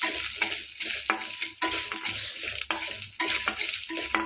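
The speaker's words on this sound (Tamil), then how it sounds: "கொஞ்சம் ஃப்ரை ஆகிடுச்சு பருப்பு கூடயே பூண்டும் நல்லா ஃப்ரை ஆகிட்டுங்க" Lentils and garlic fry in hot oil for a ridge gourd thuvaiyal chutney, a steady close sizzle broken by repeated scraping stirs and light clinks of a spoon against the pan.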